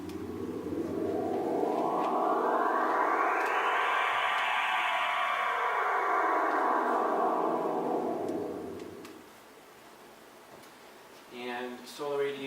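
A MIDI synthesizer tone sweeps upward and then back down like a slow, loud breath, fading to quiet near the end before a short burst of pulsing sound.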